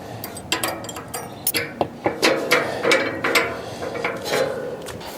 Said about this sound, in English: Now with a size 16 socket, we have to tighten up the screws for this bracket right here.